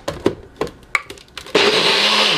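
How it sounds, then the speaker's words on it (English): Thumps and clunks as a blender is fitted and shaken with Jamaican Irish sea moss drink, then the motor starts into a loud, steady whirring blend close by. "So now we're just going to add this onto our blender, shake this up a little bit,"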